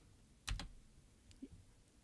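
A few quiet clicks of computer keyboard keys as a chat command is typed in Minetest, a quick pair of taps followed by softer single presses, close and faint.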